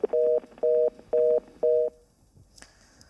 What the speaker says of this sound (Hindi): फोन लाइन कट गया है